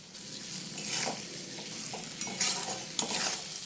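A spice paste of cumin, coriander, Kashmiri chili and turmeric fries in a pan for fish curry, making a steady close sizzle with stirring scrapes and a few sharper pops.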